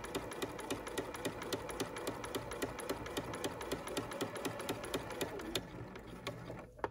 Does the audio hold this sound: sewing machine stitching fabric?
yes